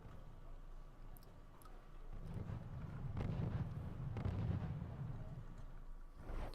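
Distant gunfire and artillery fire from the strategy video game Wargame, a dull rumbling barrage of low booms and scattered pops that swells through the middle and fades slightly toward the end.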